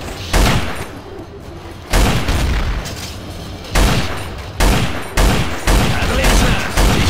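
Heavy bursts of gunfire in Counter-Strike: Source zombies mode on the ZR_bunker_v2 map, loud and close, with repeated rapid volleys each lasting about a second that blend into a continuous roar of shots and booms.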